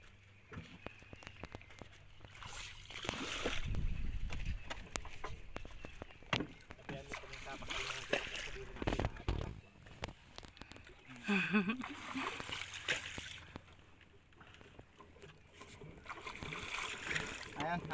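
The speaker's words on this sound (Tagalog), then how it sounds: "Magtulak muna tayo ng bangka mga kasinag dahil mabato kasi sa lugar na ito." A wooden boat is pushed by hand through rocky shallow water, with splashing, scraping water sounds and bumps over several seconds, heard up close with people talking nearby.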